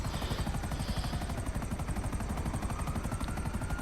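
Rotor thump of an Akula helicopter in GTA V, a steady fast chopping pulse held loud and close throughout, with faint higher engine whine layered above.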